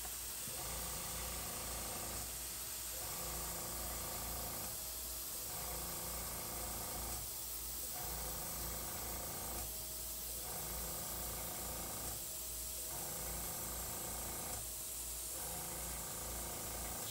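An airbrush sprays paint onto a custom Ironman chest piece, giving a soft, steady hiss that pulses in regular bursts about every two and a half seconds, faint and close, with no voices.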